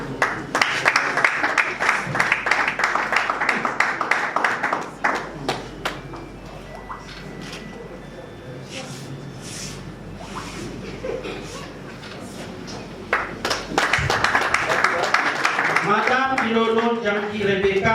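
An audience at a political gathering applauds loudly, dies down to a murmur, then breaks into strong clapping again, with a voice speaking over it and a little laughter.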